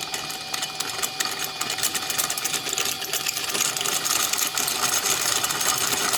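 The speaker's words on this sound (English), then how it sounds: "We'll start it spinning with 3-phase power." A 60 mm magnet driven by three-phase power spins above a ring of wire coils, producing a fast, buzzing mechanical whir with rapid ticking that grows steadily louder and denser as it speeds up.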